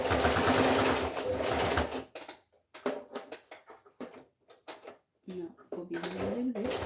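A sewing machine runs in a loud, fast, steady burst while back-stitching, stops as a person talks, then starts up again near the end.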